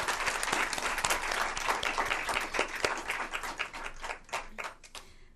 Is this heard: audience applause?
yes